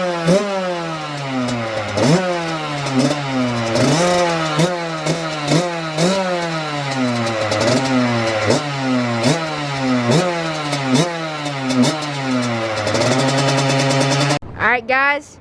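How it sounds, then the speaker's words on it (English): Kawasaki KX100 dirt bike from 2017 fitted with an FMF Shorty exhaust, revving hard and repeatedly up and down, loud and close, in sharp rising and falling pulls before a sudden cut near the end. "we're gonna start up this FMF Shorty right now"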